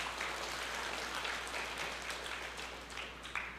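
A church congregation applauds during a sermon with a steady, even wash of many hands clapping. It sounds faint and distant and carries on throughout without any speech.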